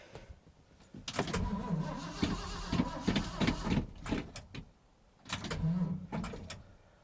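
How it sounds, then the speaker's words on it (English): A car with a weak battery cranks on a cold start, with a rapid churning whir rising loud and close, a pause, then another burst of engine noise. "Bet you on the first crank she's gonna start"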